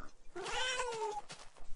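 A single drawn-out cat meow in the Minecraft-style game WyattCraft, rising then falling in a whiny, slightly strained tone, followed by quiet background clicks and rustles.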